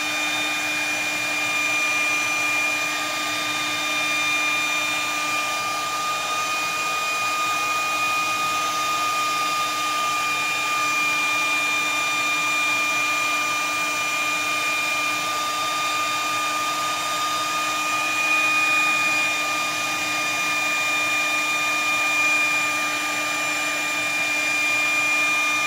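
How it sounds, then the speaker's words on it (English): A hot air blower runs in a steady, continuous whir with a high tonal whine as it dries moisture out of the mechanisms of a Remington 1858 revolver during cleaning, loud and close throughout with no talk. "Let that heat blow dry that moisture right out of there."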